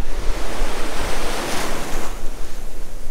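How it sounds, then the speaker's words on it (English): Ocean waves breaking and washing on a beach in Bali on the Indian Ocean, a steady broadband surf roar with a swelling crest midway, close and fairly loud with no voices. "Here goes some waves."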